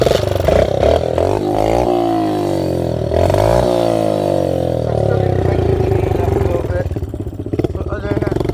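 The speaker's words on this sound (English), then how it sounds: "It's making some clicking sound up in the front." Motorcycle engine running close up, just after repair work, with a steady idle that rises and falls, alongside faint clicking from the front end; someone talks over it.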